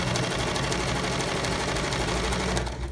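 A sewing machine runs a seam through fabric with nylon lining, a close, loud, steady mechanical whirr and rapid needle chatter throughout.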